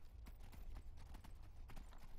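Horse hooves clip-clop steadily in the video game The Elder Scrolls V: Skyrim, a rapid, even run of hoof strikes over a dense, low rumbling game background.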